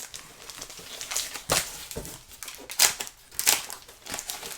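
Strips of painter's tape are ripped off a cardboard package during an unboxing, with several sharp, close tearing bursts and crinkly rustling in between, no talking.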